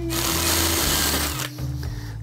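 A power drill runs steadily, pre-drilling screw holes while a storm door is being installed, with one sustained whirring burst that dips briefly before resuming, close and loud with no talk over it.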